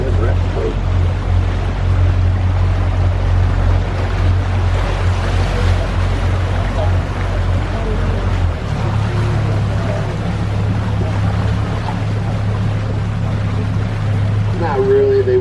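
A boat engine drones steadily up close on a lake in Winter Park, Florida, its low hum shifting pitch partway through, over rushing water and wind noise.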